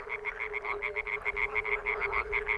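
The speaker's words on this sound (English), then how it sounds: "At the pond, frogs and toads are giving a concert." Frogs and toads croak at a reed-fringed pond in a fast, even chorus of pulsed calls, repeating steadily and close, with a faint continuous trill beneath and no voices.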